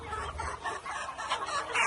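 Young Phu Phan black chickens in a flock, about four to five months old, give soft overlapping clucks nearby in a quiet outdoor setting.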